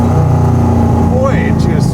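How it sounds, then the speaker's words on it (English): A 1967 Ford FIA fastback Mustang race car with straight-through mufflers rumbles loudly and steadily at close range, its engine note swelling slightly with a rev, while a person talks over it. "I think the car sounds exceptional."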